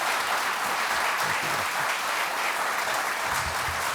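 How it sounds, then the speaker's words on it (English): Warm audience applause greets a guest speaker at a freethinkers' event, a steady dense clapping that fills the room at moderate loudness, with a faint voice briefly underneath. "please give him a warm applause"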